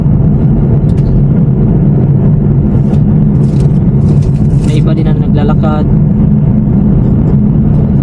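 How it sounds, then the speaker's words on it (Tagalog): Traffic rolls steadily along a narrow city-bound road in Greenland, a constant loud rumble of passing cars, while someone talks over it. "maraming mga sasakyan ang papunta dito sa city"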